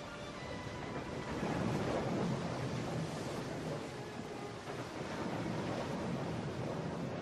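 Big ocean waves surge in a steady, loud broadband wash at sea, with wind buffeting throughout and no voices.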